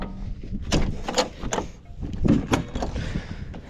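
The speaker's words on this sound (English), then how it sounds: "Shut the door." Cab door of a John Deere 8820 combine being swung shut, a few clunks and rattling latch knocks close by with no talking.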